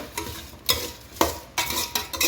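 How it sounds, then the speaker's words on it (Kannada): Cucumber upma being stirred in a pan, a spoon scraping the metal in several separate sweeping strokes over a soft, steady sizzle, close up with no talking. "ಇದನ್ನು ಚೆನ್ನಾಗಿ ಎಲ್ಲ ಮಿಕ್ಸ್ ಮಾಡಬೇಕು"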